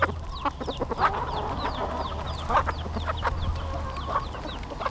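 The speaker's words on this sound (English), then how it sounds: "Oh, little chicken." A small chick peeps and chickens cluck in quick repeated bursts over a steady low hum, several birds calling close by at feeding time in the Florida Keys.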